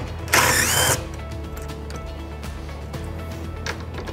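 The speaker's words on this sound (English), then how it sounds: "So using an impact drill, you just want to back the bolts out" An impact drill backs bolts out of a switchblade vault lid: one loud broadband ratcheting burst lasting about half a second, followed by quieter mechanical handling noise and a low steady hum.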